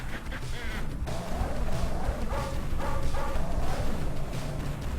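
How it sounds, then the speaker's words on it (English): Dogs, including black Dobermans, barking and yipping in an arcade shooting game, dense and continuous over game music and effects. "Now the hurry up dogs have shown up. Oh, and now the black hurry-up dogs."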